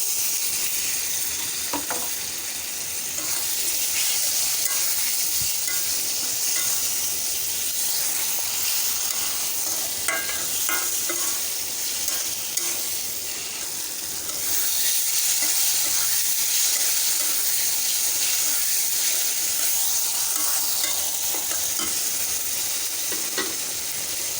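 Tomatoes added to a hot pan for a Bengali frozen-vegetable curry with ground cumin paste, frying in a loud, steady sizzle and hiss that runs unbroken throughout with no voices.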